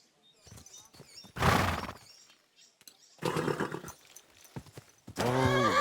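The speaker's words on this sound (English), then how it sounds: "Easy, good horse." A horse in Kingdom Come: Deliverance 2 neighs loudly and whinnies, with clopping hooves and clattering between, close and in uneven bursts; a voice speaks briefly.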